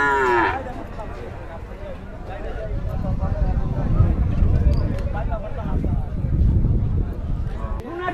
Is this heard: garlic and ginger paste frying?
no